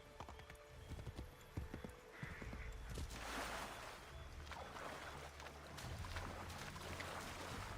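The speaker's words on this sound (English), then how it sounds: "The horse doesn't like water." Hooves clip-clop in the Assassin's Creed 3 video game as a horse moves near water, a quick uneven patter of footfalls over a low rumbling ambience, with a brief neigh and splashing-like textures.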